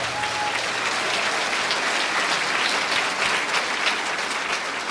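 Loud, sustained applause fills a church congregation, a dense unbroken wash of clapping hands from a large crowd that holds steady throughout.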